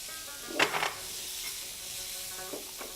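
Spices hitting hot oil with prawns in a frying pan give a short burst of sizzling and stirring, then a quieter steady hiss with a couple of faint later flare-ups.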